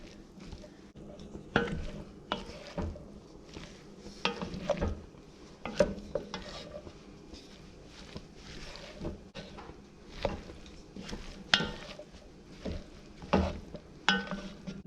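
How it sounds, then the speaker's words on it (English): Hamburger meat browning in a pot for soup, a low sizzle broken by repeated scraping and stirring knocks of a utensil against the pot, close up and uneven in rhythm, with no speech. "Now we can definitely start adding our hamburger meat."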